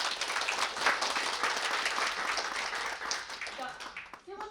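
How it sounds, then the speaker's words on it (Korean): Conference audience at a fact-checking session applauds in a dense, sustained burst of many hands close by, fading out at the end. "저 한 번만 다시 박수 보내주겠습니다"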